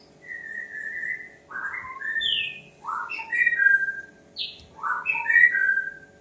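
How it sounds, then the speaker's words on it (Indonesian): An oriental magpie-robin sings nearby in clear, varied whistled phrases separated by short pauses, over a low steady background hum. "sambil dengerin murai itu loh."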